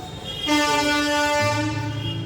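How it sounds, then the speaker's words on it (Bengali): A train from Kharagpur pulls into a station with a loud, sustained horn blast over a low rolling rumble, close by and with no talk. "এটা হচ্ছে তোমার অলরেডি এটা ঢুকছে ট্রেন"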